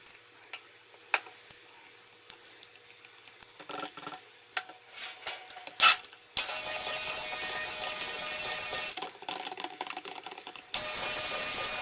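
A stick blender whirs in melted soap oils and butters to bring them to emulsion, coming on after scattered clicks and taps as a loud steady buzz in two long bursts with a short pause between.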